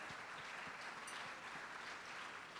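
A church congregation at a Sunday service applauds a student, producing steady dense clapping from many hands throughout, fairly faint and with no talking.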